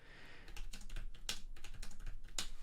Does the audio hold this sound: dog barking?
no